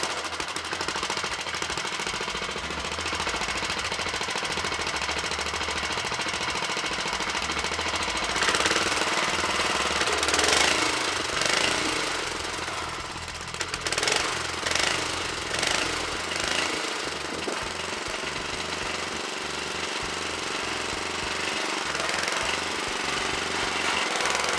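A small four-stroke engine, freshly fitted with new piston rings, runs steadily and loud up close with a rapid, even chatter and no talk over it.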